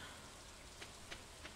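Soft, faint rain falls steadily in the Stardew Valley video game, a quiet continuous patter with a few slightly brighter drips or ticks near the end.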